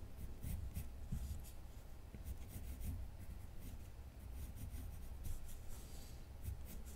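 Soft, steady scratching of a pencil or pen drawing on paper for a Christmas mailbox craft, heard as continuous close strokes with a few brief pauses and no talking.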